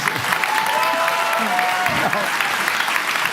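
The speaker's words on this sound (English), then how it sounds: "Look, they don't clap for me like this." Town hall audience at Harvard breaking into loud, sustained applause, a dense roar of clapping hands filling the room, with a voice briefly speaking over it.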